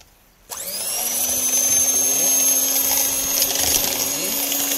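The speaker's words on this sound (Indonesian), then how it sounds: "Menggunakan mixer seperti ini, kita mixer selama kurang lebih 5-7 menit ya." An electric hand mixer starts abruptly and whirs steadily at high speed while whipping Nescafe dalgona coffee, a loud continuous motor whine with no talk.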